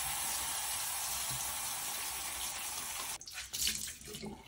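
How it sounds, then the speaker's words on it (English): Cold tap water runs steadily close by, rinsing hydrogen peroxide and a blood stain out of clothing, a constant hiss that turns to uneven splashing and sloshing as the fabric moves under the stream. "Now we're gonna rinse the hydrogen peroxide and the stain out with cold water."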